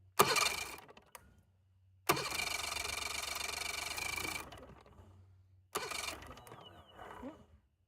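A Mercury 70 HP outboard motor on a StarCraft boat cranking without catching, in three loud starter bursts of about half a second, two and a half seconds and one and a half seconds, each separated by silence.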